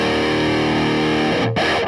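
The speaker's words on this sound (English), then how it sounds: "So you hear when I click that tube screamer on, it really does help them to tighten up the sound." Electric guitar played through an Ibanez Tube Screamer overdrive pedal, a sustained distorted chord ringing loud and close, alone, with a brief dropout and a new attack near the end.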